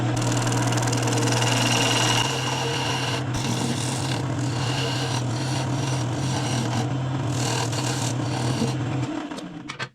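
Woodturning lathe cutting a dovetail on a tenon: a steady motor hum under continuous rasping tool-on-wood scraping, loud and close, with the machine winding down at the very end.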